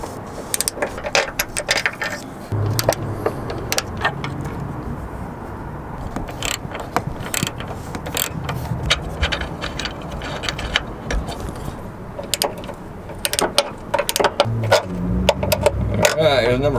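Bolts on a school bus conversion's battery box being worked loose with a wrench, giving irregular metallic clicks and clanks close by in a steady stretch of mechanical handling noise.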